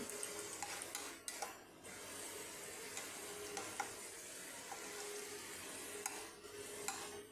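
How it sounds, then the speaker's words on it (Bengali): Gadal leaves frying in poppy seed paste in a pan, a steady soft sizzle under repeated scraping stirs and occasional light clinks of the utensil against the pan, fairly quiet and continuous. "এইভাবে পোস্ত বাটাতে গাঁদাল পাতা ভাজা এটা আমি এখন তৈরি করছি"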